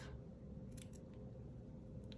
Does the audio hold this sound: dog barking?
no